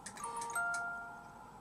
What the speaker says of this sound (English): You will have to excuse my phone bobbing off now and again.